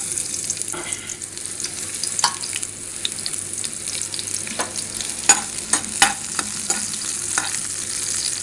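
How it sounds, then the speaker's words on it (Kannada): Chopped onion sizzles steadily in hot oil while being stirred and browned toward dark brown, with scattered sharp scraping and clinking stir strokes over a continuous frying hiss, no voices. "ಆಯಿಲ್ ಕಾದೈತೆ, ಅದಕ್ಕೆ ಉಳ್ಳಾಗಡ್ಡಿ ಆ್ಯಡ್ ಮಾಡಿ"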